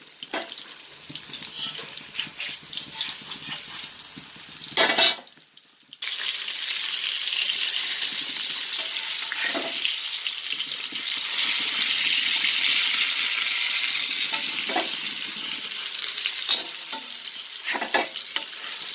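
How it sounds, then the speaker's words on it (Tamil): Cheela fish roast frying in a pan, a steady close sizzle with stirring scrapes, a brief gap near five seconds before the hiss resumes and swells slightly, no voices. "சீலா மீன் ரோஸ்ட்டு."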